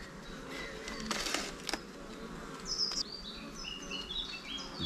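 Honeybees buzz softly around an opened hive while a small hive box is transferred into a full hive, a steady low hum with brief rustling handling noises and thin high chirps over it.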